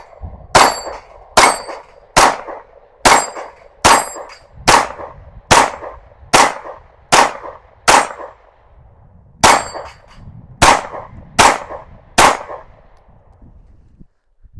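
An Anderson Kiger 9C pistol firing 115 grain Remington UMC ammunition: thirteen sharp, loud shots in two steady strings, with a brief pause between them and a ringing decay after each report.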